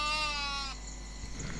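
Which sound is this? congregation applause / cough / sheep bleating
sheep bleating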